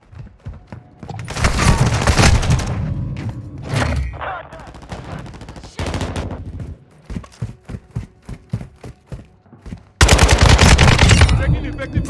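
Heavy automatic gunfire from an RPK light machine gun in the shooter game Modern Warfare 2, with loud sustained bursts at the start and the end and scattered shots and impacts in between, all close and intense.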